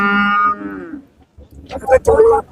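At a busy cattle market, a cow gives one long, low, drawn-out moo up close. Voices and market bustle follow.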